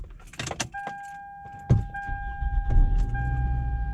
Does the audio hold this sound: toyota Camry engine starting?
yes